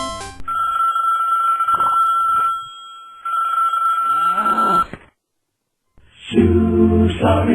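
An old-style telephone bell rings in steady sustained bursts with a pause between them, then a short silence before other sound starts; no one speaks over it.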